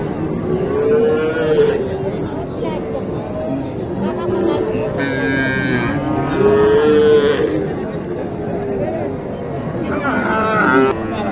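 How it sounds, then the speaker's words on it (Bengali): Several cows, including crossbred cattle, moo in long, drawn-out calls, close by, amid a busy crowd at a cattle market in Naogaon, Bangladesh, with people chattering throughout. "এখানে আরেকটা ক্রস গরু আসছে"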